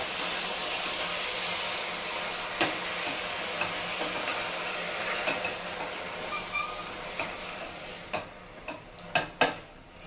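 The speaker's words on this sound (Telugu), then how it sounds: "ఇప్పుడు ఇది ఒకసారి మూత తీసి కలుపుదామండి." Red amaranth leaves are stirred in a pan with a steady sizzle and soft steam hiss, with sharp spatula scrapes and clicks growing more frequent toward the end.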